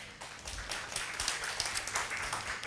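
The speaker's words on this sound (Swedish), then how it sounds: "En applåd." Audience applause welcoming a panelist at a Swedish public procurement panel discussion, a steady patter of many hands clapping at moderate volume with no talking over it.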